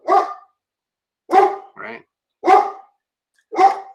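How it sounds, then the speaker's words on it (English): A dog barks four times in sharp, loud, evenly spaced bursts, with a short softer yelp or growl between two of them and a quick word spoken near the end. "My doggy doesn't like the action on the road"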